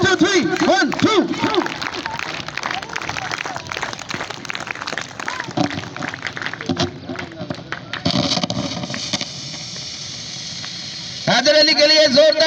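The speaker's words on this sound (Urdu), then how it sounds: "حیدر علی کے لیے زوردار کلیپنگ" Audience at a school award ceremony for students who passed cadet college entrance tests claps loudly in a rhythmic counted pattern for a student, a dense steady patter under an announcer's voice.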